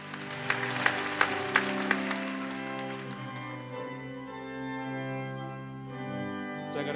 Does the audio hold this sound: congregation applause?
yes